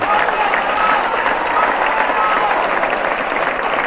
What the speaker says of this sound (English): Racine gets up to a lot of applause from both Cougar and Indian fans